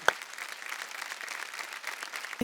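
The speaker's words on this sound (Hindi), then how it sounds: "जोरदार तालियां हो जाएं" Audience applause for a folk singer on a televised folk singing reality show, a steady wash of clapping for about two seconds with a sharper clap at the start, no voices over it.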